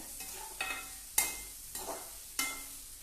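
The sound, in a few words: roasting dried dates, coconut and khoya in a pan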